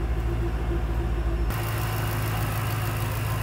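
A 2008 Ford Mustang Shelby GT500 with its 5.4-liter supercharged V8 idles steadily, a loud, close low rumble that jumps in level and brightness partway through, as if the hood opens, with no talk over it.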